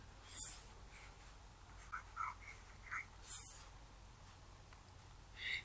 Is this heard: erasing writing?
yes